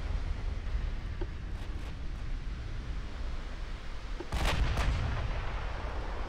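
Battleship naval gunfire in the game Ultimate Admiral Dreadnoughts, a few muffled deep booms: faint thumps early on, then a louder salvo of several shots around the midpoint, over a low rumbling sea-like background.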